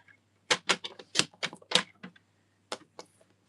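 Thin, flimsy envelope paper being cut for card making, a series of quick crisp snips in close succession with a short pause before a few more cuts, close and fairly quiet.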